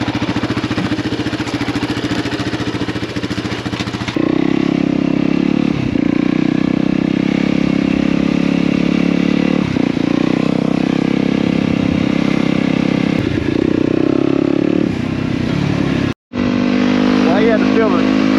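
A custom Banshee 350 engine on a trail ride runs loud and steady throughout, its mid-pitched drone rising in level after the opening seconds and briefly cutting out near the end.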